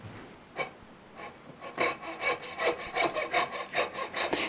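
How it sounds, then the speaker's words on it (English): A jeweler's saw cuts into a wooden baseball bat, a few slow strokes giving way to a quick, regular rasping rhythm of back-and-forth sawing, close and clear. "Now when you cut, be sure that you turn the bat to follow the line and just keep cutting all the way around."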